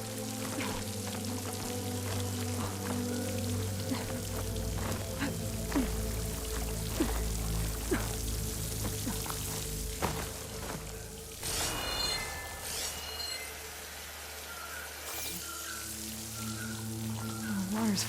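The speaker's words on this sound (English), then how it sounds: "The water's flowing into the wall." Water pours and splashes steadily into a stone wall in Horizon Forbidden West, a continuous close rush with dripping patter and a low ambient hum underneath.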